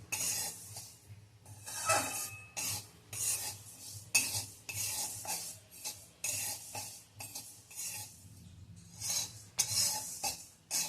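Sesame seeds roasting in a pan for sesame jaggery chikki are stirred continuously, giving repeated scraping, rasping strokes in a steady rhythm, close and moderately loud, with a low steady hum beneath and no talking.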